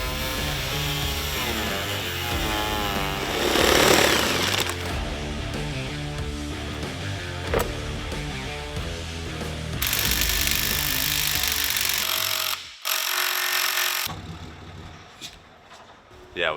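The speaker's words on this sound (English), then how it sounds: "we're going to cut the body literally in half and section it side to side" Power tools cut a car body in half side to side in a race-car build shop, with a loud continuous grinding whine that shifts pitch, cuts out briefly and restarts near the end.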